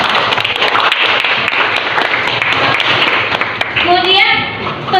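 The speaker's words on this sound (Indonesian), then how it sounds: "tepuk tangan dulu" A classroom of children claps together during a Qur'an recitation lesson on tajwid rules, a dense steady patter of many hands under a teacher's voice, with children's voices rising near the end.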